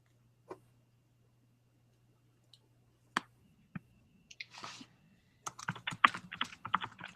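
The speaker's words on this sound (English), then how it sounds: "Typing, yes, very good." Keys tapped on a computer keyboard in a quiet room, starting as a few isolated clicks and then building into a quick burst of typing near the end, with a steady low hum underneath.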